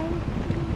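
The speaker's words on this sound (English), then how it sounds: "It's super windy." Steady, blustery wind buffeting the microphone with a low rumble, continuous throughout with no pauses.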